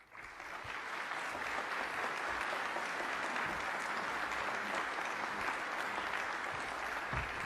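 A large audience applauds steadily and loudly for several seconds to welcome Charles F. Bolden, Jr. at a plenary session, the clapping alone and unbroken.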